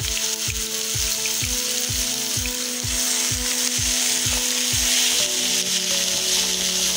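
Garlic and paprika sautéing in a pan for a potato and meat dish, a steady close sizzle with a repeating stir or tap rhythm running throughout, no voices.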